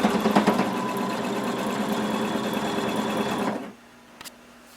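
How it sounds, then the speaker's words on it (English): A sewing machine stitching a swimsuit's lining fabric, a steady loud close whirring hum with fast rhythmic needle chatter that runs continuously and then stops, leaving near silence with a small click. "we're going to be sewing all the way around as far as we can go."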